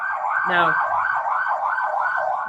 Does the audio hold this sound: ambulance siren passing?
yes